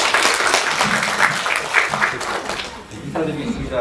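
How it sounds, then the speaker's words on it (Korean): Indoor audience applause for a presenter at a redevelopment briefing for an apartment complex, a dense steady patter of many hands close by, fading slightly near the end. "큰 박수 부탁드리겠습니다."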